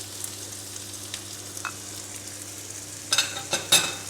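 Soft sizzling of peppers with garlic and salt frying in a pan, with a few scraping stirs near the end.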